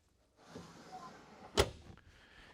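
A storage drawer on a 2024 Lund 1975 Pro V Sport fishing boat, a pull-out drawer set in the walkway, shuts with a single sharp knock midway through, over soft handling rustle.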